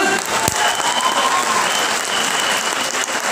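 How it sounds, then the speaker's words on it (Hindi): Loud, dense applause from an audience at a Vestige leadership training event in Faridabad, steady throughout with no pauses. "एक बार जोरदार तालियां"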